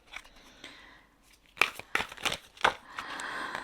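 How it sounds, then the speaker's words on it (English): Tarot cards dropped and handled, papery crinkles, soft slaps and shuffling rustles, close and uneven. "I'm just dropping these cards."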